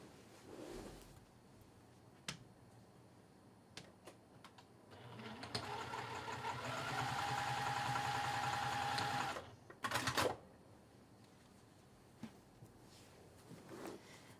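A home sewing machine stitching a fabric strip at a steady whir for several seconds, with quiet handling clicks and taps before and after, all faint and close.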